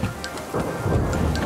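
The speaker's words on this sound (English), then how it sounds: "I know the storm is scary, but we need your help." A cartoon storm: a steady hiss of heavy rain with a low rumble of thunder building toward the end, loud and close, with no talking.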